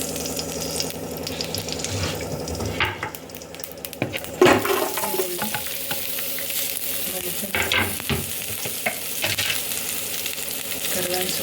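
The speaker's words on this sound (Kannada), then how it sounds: "ಕರಿಬೇವಿನ ಸೊಪ್ಪು ಇದೆಲ್ಲನೂ ಚೆನ್ನಾಗಿ ಬಾಡಿಸ್ಕೋಬೇಕು, ಫ್ರೈ ಮಾಡ್ಕೊಳ್ಳೋಣ." Curry leaves frying in hot oil as tempering for a Karnataka-style sambar, a bright crackling sizzle with stirring clatter and a sharp burst partway through, close and steady.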